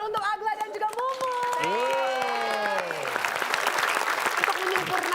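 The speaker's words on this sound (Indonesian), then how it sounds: "Tapi kita kasih tepuk tangan untuk Agla dan juga Mumu" Studio audience applause for contestants Agla and Mumu on an Indonesian comedy game show, a steady wash of clapping and cheering under an announcer's voice and a rising musical flourish.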